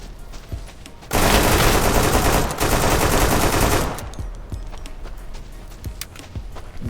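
Rapid burst of automatic gunfire in the survival shooter Deadside, loud and dense for about three seconds, followed by scattered faint shots and footsteps.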